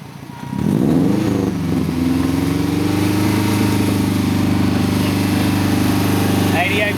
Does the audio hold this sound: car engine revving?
yes